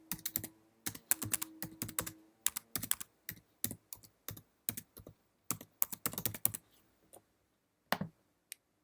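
A computer keyboard clicks as a search phrase is typed, with close, crisp keystrokes in quick uneven bursts and short pauses, ending in a few scattered taps.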